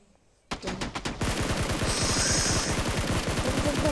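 Video game gunfire starts with a few separate shots and then becomes a dense, sustained automatic burst, loud and close, with a high whine above it and no talking.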